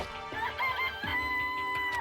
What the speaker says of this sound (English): This place even has chickens, huh?